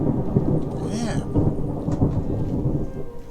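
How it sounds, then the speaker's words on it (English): Thunder rumbles over steady rain in a Skyrim thunderstorm with the Rustic Weathers mod, a continuous dense storm wash with a brighter crack near the start, loud and enveloping. "Listen to that thunder and look at the darkness."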